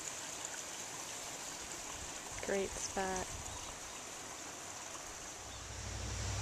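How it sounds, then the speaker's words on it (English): A waterfall below the road near Hana, Hawaii, pours as a constant rushing hiss of falling water, with a voice briefly speaking over it. "You can see the waterfall."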